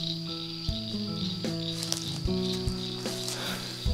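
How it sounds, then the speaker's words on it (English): A chorus of northern cricket frogs calls from a lily-pad covered lake, sharp repeated clicking notes overlapping in a steady, moderately loud outdoor chorus with no voices. "they were northern cricket frogs singing happily from the lily pad covered lake"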